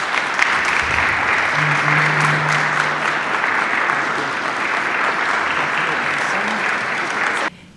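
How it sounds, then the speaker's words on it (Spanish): Audience applause welcoming a guest's mother at a ceremony honoring a distinguished physicist: loud, steady, dense clapping sustained for about seven seconds before cutting off abruptly. "a quien vamos a recibir con un fuerte aplauso, Laura Nieto."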